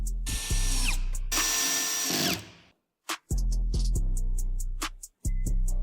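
Power drill driving 16 mm screws into rollers on a cabinet, two long loud whirring bursts followed by several short trigger blips and another sustained run, close by with no talk.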